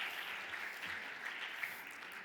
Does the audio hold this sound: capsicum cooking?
no